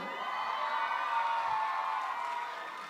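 A crowd of supporters cheering at a dance event, a sustained distant roar of voices and whoops holding steady for a few seconds before tapering slightly.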